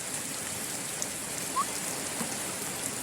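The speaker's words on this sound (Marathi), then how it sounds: "दोन्ही सोबतच आल्यामुळे असा पाऊस आला." Steady, even hiss of heavy rain pouring down outdoors during a windy storm, a dense close wash of drops with no breaks and no voices.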